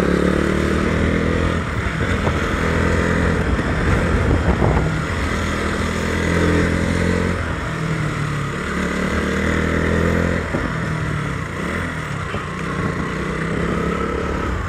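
A KTM Duke 200 naked sport motorcycle runs fast around a race track, its engine a loud, steady drone close to the rider that rises and falls slightly with throttle changes. Nobody speaks.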